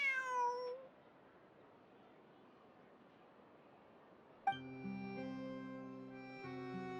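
A cat meows in the Genshin Impact video game, a short run of clear, close meows at the start, followed by quiet background hum and then a sustained game music chord.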